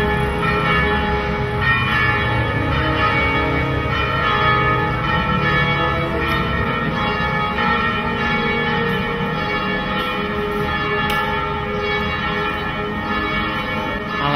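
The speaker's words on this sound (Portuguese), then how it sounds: "Os sinos já estão soando," Church bells in Urussanga ring out continuously announcing Mass, their tones overlapping and sustained over a faint background hum, with no one speaking.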